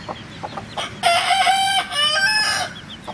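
A rooster crows loudly nearby, one long drawn-out call, after a few softer clucks and rustles.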